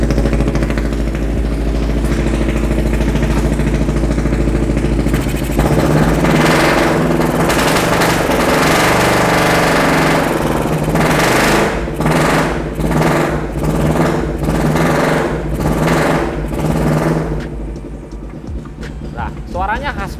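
A Kawasaki Ninja 250cc engine fitted in a custom chopper motorcycle runs loud and close, a steady idle rising into revving bursts, while someone talks over it throughout.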